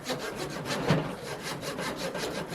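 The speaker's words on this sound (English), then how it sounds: "this has been some rough going with the saw" A hand saw rasps through bald cypress roots from nursery stock in steady back-and-forth strokes, close and fairly loud, with rough, gritty friction and a slight bump near the middle, no voices.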